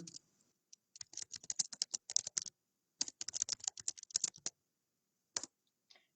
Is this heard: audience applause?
no